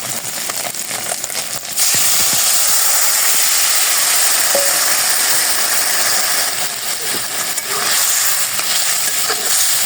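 Vegetable curry with sambar added cooks in a pan, giving a loud, steady hiss and sizzle throughout, with occasional faint stirring clicks.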